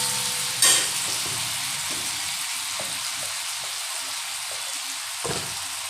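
Crushed green chillies sizzle steadily in hot oil in a pan, a continuous frying hiss with a sharper burst near the start and a few soft clinks of stirring, no voices.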